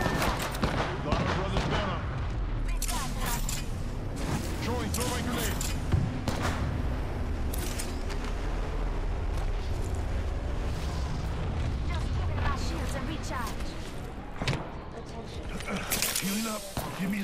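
Grenade explosions in Apex Legends during a firefight: heavy booms and crackling blasts among constant gunfire and loud combat noise throughout, with voices heard under the din.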